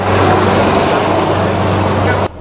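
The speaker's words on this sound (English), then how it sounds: "the helicopter conveying President Bola Ahmed Tinubu from Owo arrived at Ijapo Playground in Akure" Helicopter carrying the Nigerian president arriving at a playground landing site in Akure, Ondo State: a loud, steady broadband rotor and engine roar with a low hum, holding constant before cutting off abruptly near the end.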